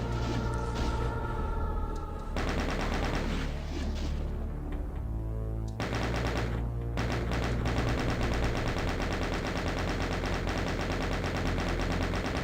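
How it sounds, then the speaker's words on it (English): Chain gun firing in a video game, long loud sustained bursts of rapid automatic fire with brief pauses between volleys, dense and close, with no talking. "let's use some chain gun"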